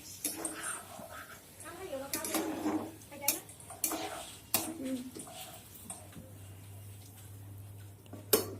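Small mourala fish curry being stirred in a cooking pot after water is added: scattered metallic scrapes and clinks of a spoon against the pot, close and moderately quiet over a steady low hum.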